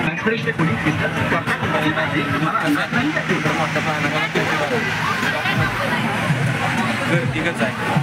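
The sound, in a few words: crowd bustle at Nagthane Shri Ram chariot fair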